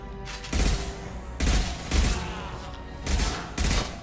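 Assault rifle fire in the Mass Effect 2 video game: several short, loud bursts of rapid shots separated by brief pauses, with no speech over them.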